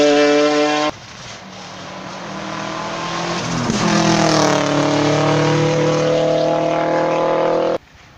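A loud rally car engine roars past at a rally event, rising then falling in pitch, holding a steady drone for several seconds before cutting off abruptly.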